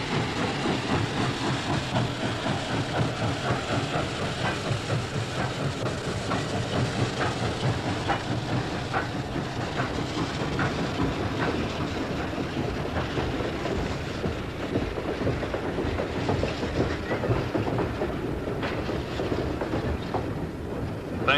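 Gettysburg Railroad locomotive number 76, a working Pennsylvania short line train, rumbles past close by with constant hissing, clanking and rhythmic wheel clatter that stays loud and unbroken throughout.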